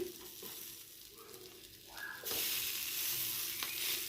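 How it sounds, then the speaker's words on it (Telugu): Buttered bread toasting face down on a hot pan, a faint sizzle that suddenly swells louder partway through and then holds as a steady close frying hiss, with no voices. "బటర్ ఉన్న సైడ్ కిందన వేసుకోవాలి ఇప్పుడు ఇలా కాల్చుకోవాలి"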